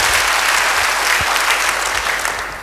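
A church congregation at a Pentecost-season worship service bursts into loud, dense applause, a continuous roar of many hands filling the hall and easing off slightly at the end.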